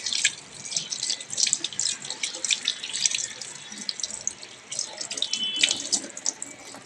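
Fresh coriander leaves are rinsed under a running kitchen tap, a steady hiss of flowing water with splashes and drips as the leaves are handled, close and continuous with no talking.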